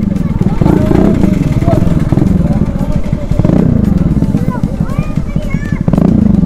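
A mini superbike's exhaust revs repeatedly, its rough engine note rising and falling close by, with people talking loudly over it throughout.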